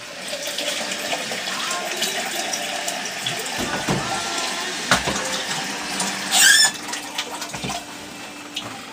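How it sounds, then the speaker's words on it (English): Warm water runs steadily from a washroom tap, gushing and splashing nearby while being used to clean a homebrew keg and tap, with a brief louder surge near the end. "I use warm water right off the bat."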